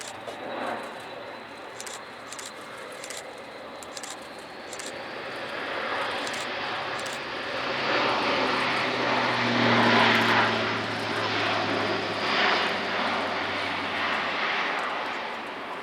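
A German Air Force Airbus A400M turboprop transport flies a display, its propeller engines giving a loud, steady roar that swells as it passes and then slowly fades, with no voices over it.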